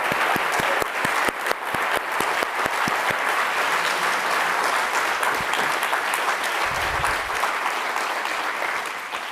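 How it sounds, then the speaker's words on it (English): A poetry evening audience applauds in a full, sustained burst of many hands clapping, loud and steady throughout with a faint murmur underneath. "let's have a round of applause"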